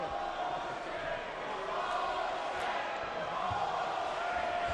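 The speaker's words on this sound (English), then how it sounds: "the crowd is starting to get on them" A gym crowd watching a slow boxing bout murmurs and stirs in a steady, distant wash of voices, with scattered indistinct shouts and no clear single word standing out.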